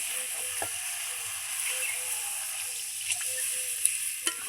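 Water hits a hot pan of fried duck egg and capsicum curry, setting off a steady, close sizzle with a few small pops and clinks of a spoon.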